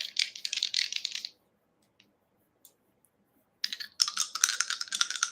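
Astrology dice shaken by hand, rattling and clicking in two bursts, about a second at first and then a longer stretch, separated by a quiet pause, close and fairly crisp.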